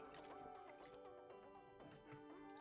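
Water runs and drips while a plastic toy pony is rinsed, a faint, continuous trickling and splashing with no voices.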